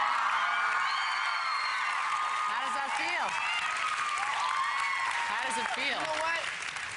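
Studio audience on a talk show cheering and clapping for Justin Bieber: a dense wash of applause, whoops and high-pitched screams throughout, with someone talking over the crowd noise.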